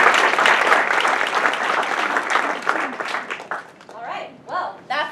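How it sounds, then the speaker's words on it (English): Audience applause for event organizer Maggie Moss-Jones at an evening talk on nature, race and diversity in the National Park Service, loud and dense at first, then thinning into scattered claps as a voice begins speaking. "I think she deserves a round of applause."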